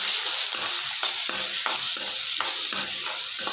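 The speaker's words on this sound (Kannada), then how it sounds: "ಈಗ ಕಟ್ ಮಾಡಿ ಇಟ್ಕೊಂಡಿರೋ ಈರುಳ್ಳಿ ಹಾಕ್ಕೊಳ್ಳೋಣ." Chopped onion frying in oil with curry leaves for a capsicum palya, a constant bright sizzle broken by regular scraping stirs about every half second, close and with no voices.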